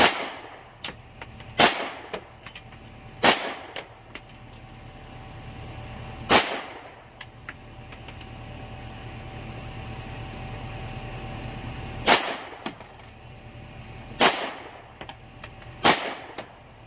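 A Swiss P49 (SIG P210) pistol is fired on a range at 25 yards, with single sharp, loud gunshots spaced irregularly over a steady outdoor background: a quick run of three, one alone, then three more, with no talk.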